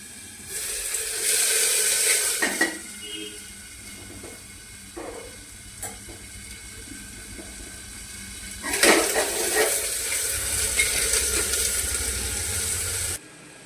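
Mixed vegetables drop into hot tempering oil spiced with turmeric, giving a loud, steady sizzle with pan clatter, a quieter stretch in the middle, then a fresh surge of hissing that holds until it cuts off.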